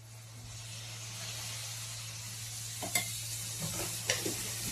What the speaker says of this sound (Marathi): कढईमध्ये 2 पळ्या तेल टाकलं.